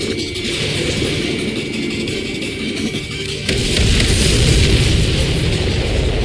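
A supply ship blows up in Ace Combat 7, a loud, sustained rumbling blast that swells and grows heavier partway through and keeps roaring to the end, with no voices.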